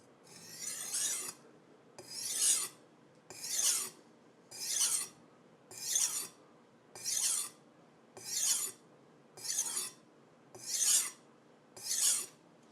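A kitchen knife is drawn across a whetstone in eleven evenly spaced rasping strokes, each a short scraping sweep about a second apart, close and alone with no talk.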